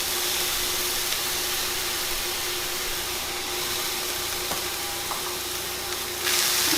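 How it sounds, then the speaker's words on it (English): Onions frying in a tablespoon of melted butter, a steady, close sizzling hiss that holds evenly and swells slightly louder at the end, with no talking. "Now we're melting our 1 tablespoon of butter. We're putting in our onions."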